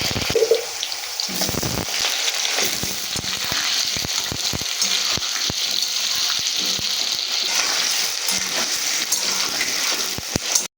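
Cut potatoes hit hot oil seasoned with cumin and bay leaf, giving a loud, steady sizzle and crackle that runs throughout with occasional sharper pops.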